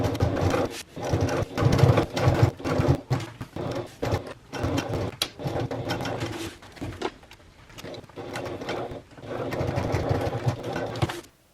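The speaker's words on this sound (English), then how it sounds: "let's go to the sewing machine, and we're going to top stitch around all 3 sides of the divider pocket here" Sewing machine top stitching around three sides of a divider pocket on a travel bag, running in a series of close, loud bursts broken by short pauses.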